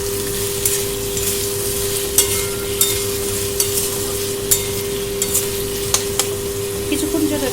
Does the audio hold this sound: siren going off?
no